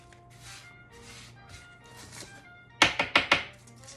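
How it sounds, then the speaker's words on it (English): Butter being cut up for a berry cobbler, heard as a quick run of four sharp knife thunks against a board, close and fairly loud after a stretch of quiet background rustling, with no talking. "Now you're going to cut up your butter."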